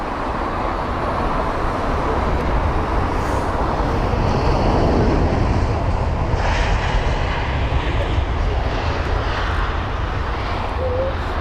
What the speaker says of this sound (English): Yes, so the Belfast flight.